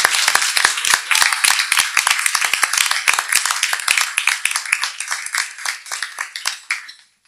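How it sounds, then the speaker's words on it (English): School board meeting crowd claps for students, a sparse round of distinct, close handclaps that stays fairly steady before thinning out and stopping near the end. "Let's give our Forest Lake students another round of applause."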